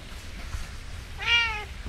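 A house cat lets out one short, clear meow near the end, heard close over faint steady background noise, with rain falling outside.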